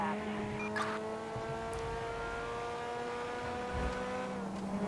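A customised Mercedes car engine in the video game GTA 5 drones at steady revs, its tonal hum holding level and faint with brief tyre or engine bursts near the start and end.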